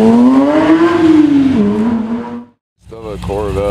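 A Porsche GT3 Touring at a car meet, its engine note rising and then easing off for about two and a half seconds. It cuts out briefly, then returns beneath people talking.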